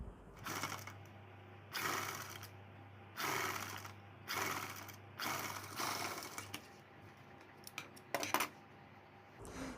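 A sewing machine stitches a princess-cut blouse in repeated rhythmic bursts of fast mechanical clatter, each run separated by brief pauses, close and fairly quiet, with a steady low motor hum underneath.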